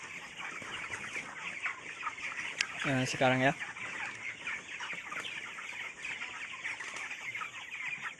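Chickens cluck and call on a poultry farm, one loud harmonic squawk standing out among scattered fainter clucks, with brief talk in the background.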